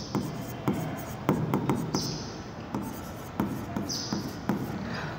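A pen writes an accounts entry on paper in a run of close scratchy strokes with small taps, steady and continuous, with no talk over it.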